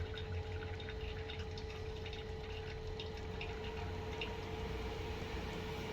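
An electric pump pushes liquid through a leaking tap on a half-barrel home brewing kit, giving a steady, even whir and rush of flowing water with a faint constant hum throughout.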